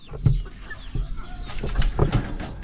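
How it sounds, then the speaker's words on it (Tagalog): Chickens, decaled white birds, cluck close by in short, irregular bursts over a low farmyard background. "yung mga manok ko"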